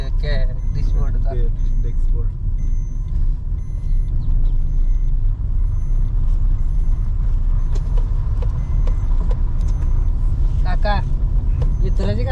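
A Maruti Suzuki Dzire car drives with a constant loud engine and road rumble from inside the cabin, while people talk over it.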